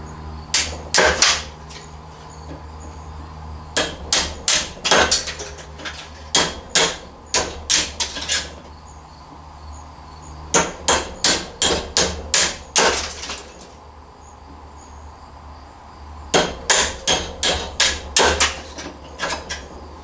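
A hammer knocks copper windings out of a large electric motor stator in bursts of rapid metallic blows, five or six strikes per run, loud and close with short pauses between runs.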